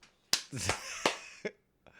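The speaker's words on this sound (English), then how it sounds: "Can you clap?" Two sharp, close hand claps about a second apart mark the start of a podcast recording in a small quiet room, with brief talking between them.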